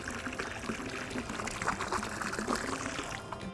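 Liquid chlorine pours into swimming pool water in a steady splashing trickle, close and continuous, with no voices.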